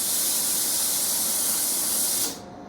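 A Laurastar steam iron lets out a steady, loud hiss of steam that cuts off abruptly near the end, leaving a faint background hiss; no talking.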